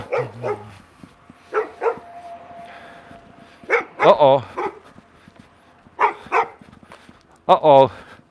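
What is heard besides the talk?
dog barking outside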